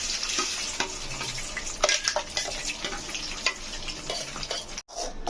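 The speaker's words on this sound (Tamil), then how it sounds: "இந்த அரைச்ச விழுதை இந்த எண்ணெயிலே சேர்த்து நல்லா நம்ம கலரி விட்டுக்கலாம்" Steady crackling sizzle of ground paste frying in oil for egg gravy, with stirring scrapes throughout, close and fairly loud, no voices.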